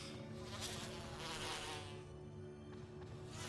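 Swarm of bees drones in Resident Evil 1 Remake, a continuous buzzing hum that swells and fades slightly, alone with no talk.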